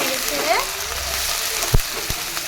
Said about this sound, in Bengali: রসুন, আদা আর কাঁচা লঙ্কা পেস্ট। ভালো করে নেড়ে ছেড়ে